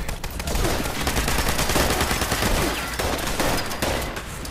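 Dense, continuous gunfire from the video game Fallout 76, a loud sustained barrage of overlapping shots with no pause across the whole stretch and no speech.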